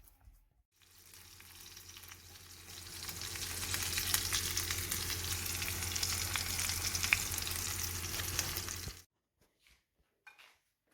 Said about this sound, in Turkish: Kısık ayarda ızgara tepsi kebabımızı yapacağız.